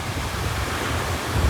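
Ocean surf rolls onto a white-sand beach in a steady, loud wash, with gusting wind buffeting the microphone and a low rumble building near the end.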